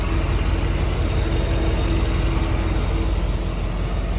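A 1957 Chevrolet Bel Air engine idling steadily nearby, a constant low rumble with no revving or other sounds.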